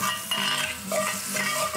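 Garlic and salt seasoning frying in a pan, with a continuous sizzle and metallic utensil scrapes as it is stirred, close and fairly loud with no speech.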